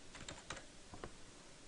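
Several quick, light keystrokes clatter on a computer keyboard while text is entered into diagram shapes, a short cluster of clicks followed by a couple of isolated taps, quiet and close.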